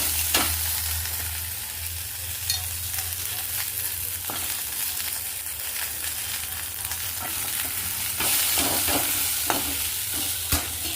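Okra sautéing in a pan for a tamarind curry, a steady sizzle with occasional sharp clicks and scrapes of a spatula stirring, close and continuous with no talking.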